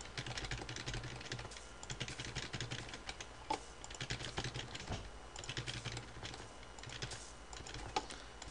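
Computer keyboard keys clack in quick, uneven bursts as coal is dropped in a Runescape game, a close, steady typing rhythm with no voices.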